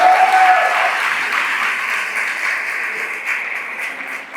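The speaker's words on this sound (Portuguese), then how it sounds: "Dê uma salva de palmas a Jesus" A church congregation applauds, a dense sustained wash of many hands clapping that stays loud and even for over four seconds.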